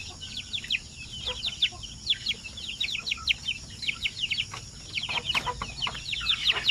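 Month-old chicks and chickens on a poultry farm in Mindanao give off a steady stream of rapid, high-pitched peeps and chirps close by, with a soft clucking undertone and no talking.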